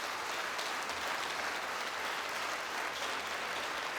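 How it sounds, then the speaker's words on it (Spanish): An audience at an inaugural lecture and scholarship presentation applauds architect Francisco Serrano Cacho with steady, dense clapping from a large crowd, heard fairly softly and at a distance throughout. "Pues démosle un aplauso,"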